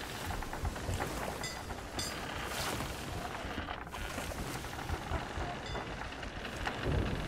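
Heavy storm rain pours steadily in the video game Sea of Thieves, a dense continuous hiss and patter with low rumbling thunder underneath, loud throughout with no talking.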